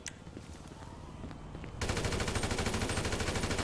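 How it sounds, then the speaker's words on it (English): Automatic gunfire in GTA 5 Online, starting faint and then bursting into a loud, continuous rapid volley of shots partway through. "Oh my goodness, I am under fire!"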